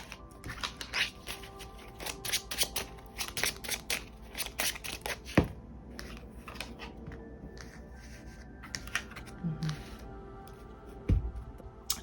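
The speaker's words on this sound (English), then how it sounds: "Let's go ahead and grab some more cards for my pile number 1." Tarot cards shuffled by hand in close, soft riffling bursts repeating across the stretch, with a couple of sharper taps between them.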